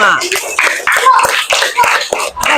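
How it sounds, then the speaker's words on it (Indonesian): Classroom applause for a student group after a presentation, loud nearby clapping mixed with children's voices and chatter throughout. "Tepuk tangan untuk kelompok 5"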